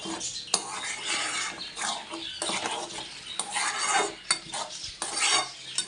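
A spoon scrapes and stirs taro chili paste in a pan, a steady run of close scraping strokes with a faint sizzle beneath.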